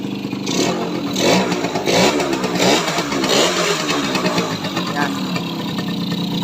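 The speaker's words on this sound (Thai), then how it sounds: "ติดเครื่อง RC นะท่านผู้ชม" A nitro RC car, an Aquila, runs its small engine nearby with a steady buzzing drone that rises and falls slightly, with a dense mechanical rattle throughout.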